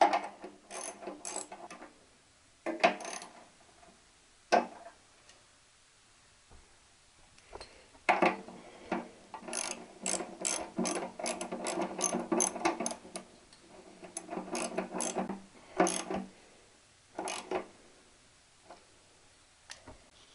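Ratchet wrench tightening bolts during a Triumph T120 motorcycle engine rebuild, heard as close, bursts of rapid clicking with short pauses between strokes, no talking.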